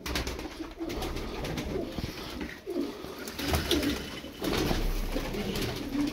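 Tumbler pigeons coo softly and repeatedly over a noisy, rustling background in a bird enclosure, their low, throaty calls recurring through the clip with no speech.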